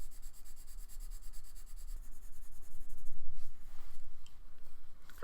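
Colored pencil laid down in light layers on smooth paper: soft, close scratchy strokes that rub back and forth in quick repeated passes, quiet and steady, with no talking.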